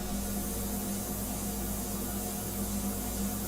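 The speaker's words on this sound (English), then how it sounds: "I just love the way this airbrush sprays." Custom Extreme Patriot 105 airbrush spraying paint for a sepia fine art portrait, a steady soft airy hiss with a low hum underneath, continuous and even throughout, no talking.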